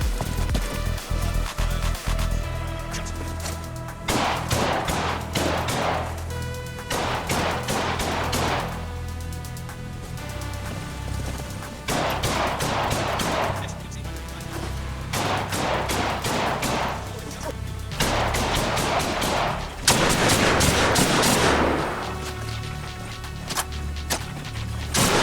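Rifle gunfire at a firing range in the video game Arma Reforger: several loud bursts of rapid shots separated by short pauses, with a steady music bed underneath and no talking.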